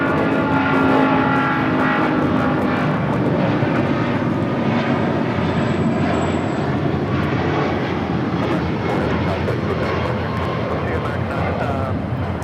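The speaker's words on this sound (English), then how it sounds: "That is American Airlines Flight 4 taking off to JFK on the 777-200ER in the One World livery." An American Airlines Boeing 777-200ER in One World livery takes off from Los Angeles bound for JFK, a loud, sustained engine roar heard up close, with a voice talking over it.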